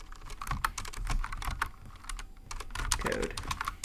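Typing on a computer keyboard while entering HTML code, a steady patter of close, crisp key clicks with irregular rhythm and brief pauses, no voices.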